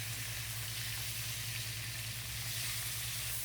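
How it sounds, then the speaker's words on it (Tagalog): Grouper fish head frying in hot oil in a pan, giving a steady, close and loud sizzle that runs unbroken with no voices. "Baliktarin natin ang ating prenito na aking gigisahin mamaya sa dahon ng petsay."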